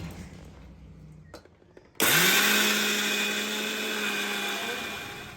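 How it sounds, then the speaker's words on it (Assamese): A kitchen mixer grinder switches on to grind soaked rice and beetroot into a paste, jumping from near silence to a loud, steady high whine that slowly eases in pitch, close and uninterrupted. "অলপ পিছত মিক্সিত বটি পিঠাগুড়িখিনি খুন্দি ল'ব চাউল আৰু বিট দি থৈছোঁ"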